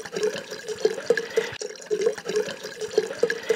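Wine glugging as it is poured into a giant glass, with rhythmic gurgling pulses and liquid splashing, close and fairly soft, with a brief break midway.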